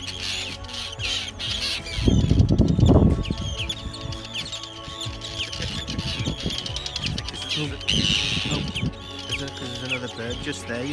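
Arctic terns on Vigur Island, Iceland, give scattered shrill calls through the air around people talking, with bursts of close wind-buffeted rustle.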